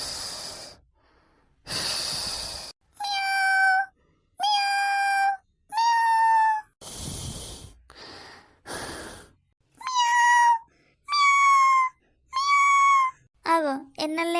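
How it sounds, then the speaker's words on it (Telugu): A cat meows repeatedly near a sleeping person's head indoors at night, giving a series of loud, drawn-out cries spaced by short pauses, mixed with some breathy sounds. "ఏమో పిల్లి నెత్తికాడికొచ్చి మియావ్ మియావ్ అని ఉర్రబట్టే"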